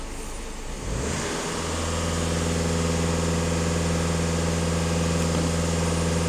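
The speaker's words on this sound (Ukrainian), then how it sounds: "даю газ в пол, фіксуємо дані на обертах" Skoda Octavia 2.0 TDI diesel engine pushed to full throttle, rising from idle within a second into a loud, sustained high-rpm drone held steadily, close by with no talking.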